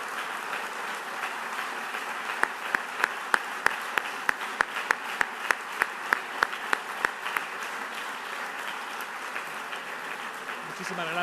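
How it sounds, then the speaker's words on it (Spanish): Sustained audience applause at a public conversation event with Mario Vargas Llosa, a broad wash of clapping with a run of sharper, regular claps standing out near the front, heard at moderate level. "Fuerte aplauso."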